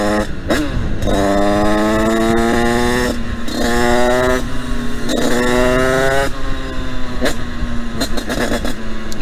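Italkit 125 four-stroke dirt bike engine running loud and close throughout, revving up and down in repeated pulls with rising and falling pitch, slightly rich carburetion and a small exhaust.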